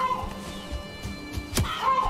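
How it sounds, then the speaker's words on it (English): Chickens in the Valheim video game cluck in short bursts over a steady in-game background, with one sharper squawk near the end. "So many chickens."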